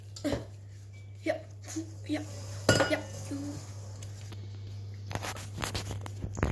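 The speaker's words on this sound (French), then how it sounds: "Et on mélange le tout." Chocolate banana cake batter is mixed in a bowl, with scattered utensil clinks and knocks against the bowl, a steady low hum underneath and a person speaking at moments.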